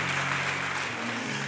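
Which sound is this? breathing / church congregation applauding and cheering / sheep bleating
church congregation applauding and cheering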